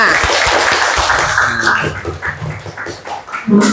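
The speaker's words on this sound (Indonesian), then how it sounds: "Berikan tepuk tangan buat temannya" Students in a classroom clap for a classmate, a loud, close burst of many hands that thins out toward the end, with voices and classroom noise mixed in.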